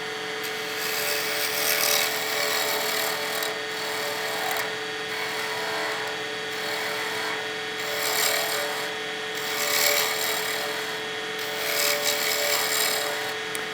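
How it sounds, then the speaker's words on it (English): A wooden pen blank spins on a lathe while a spindle roughing gouge cuts it, making a continuous close scraping rasp that swells and eases as the tool moves along. "we'll be using the spindle roughing gouge for pretty much the entire roughing process"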